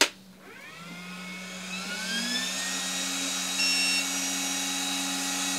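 A ViQure 808 nm laser hair removal device powering on: a short thump, then a fan-like whir rising in pitch and settling into a steady, fairly loud drone with a faint high tone, heard alone.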